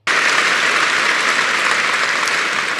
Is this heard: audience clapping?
yes